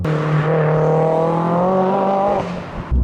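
Abarth 595 with a tubular manifold and modified exhaust, a loud sustained engine drone rising steadily in pitch under acceleration, close, then easing off briefly before a final burst.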